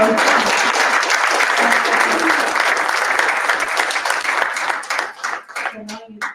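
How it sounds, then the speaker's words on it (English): An audience at a Humans of St. Louis book launch hosted by Left Bank Books and Schlafly Public Library gives a full round of applause, dense and close, then thinning out at the end as voices emerge. "Can we give her a round of applause?"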